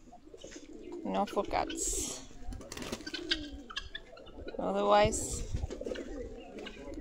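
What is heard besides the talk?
pigeons cooing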